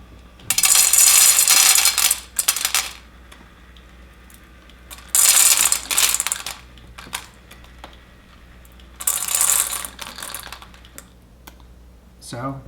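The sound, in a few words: PetSafe automatic pet feeder dispensing dry food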